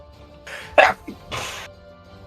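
One person sneezes in a quick two-part burst, a sharp intake followed by a loud close explosive release, in a quiet room during a tabletop game session.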